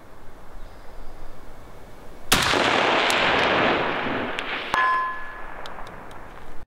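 A single loud rifle shot from a 6.5 Creedmoor DPMS AR-10 upper at a range, a sharp crack followed by a long decaying roar, then a bright metallic ding of a steel target hit.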